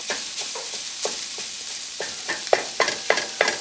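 Lean pork sausage frying in a hot pan over medium heat for cornbread stuffing, with a steady sizzle and a series of scraping, clattering stirs that grow louder and more frequent toward the end.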